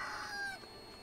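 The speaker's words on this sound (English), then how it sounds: "What the hell do chickens eat?" Chickens cluck briefly in the farming game EverDream Valley, a soft, close burst of clucking that fades after about half a second.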